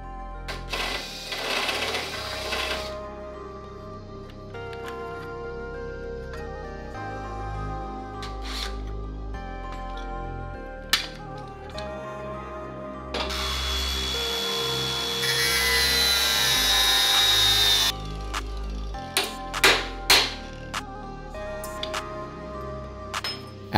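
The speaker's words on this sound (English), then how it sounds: "a more traditional way was to notch the tube with the tube notcher" A tube notcher cuts coping profiles into steel tube for building rock sliders, giving a steady grinding, rasping drone with a brighter, higher stretch near the middle and a few sharp knocks toward the end, with no voices.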